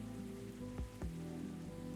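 Rain patters quietly in the cafe scene of the video game Coffee Talk, a soft steady wash with two brief low thumps partway through and no talk.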